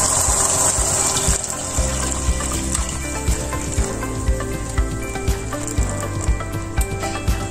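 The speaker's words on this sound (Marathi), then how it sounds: "अर्धा लिटर दूध असेल ते मी यामध्ये घालते" Half a litre of milk pours steadily into a pan for alive seed kheer, a continuous rushing gush, accompanied by a regular series of soft thumps throughout.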